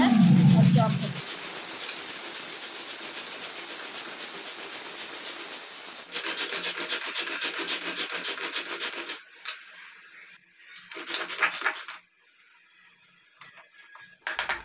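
A pull-cord manual vegetable chopper, its blade spinning inside as the cord is yanked, gives rapid whirring, rattling bursts after a steady hiss, with short pauses between pulls and no talking.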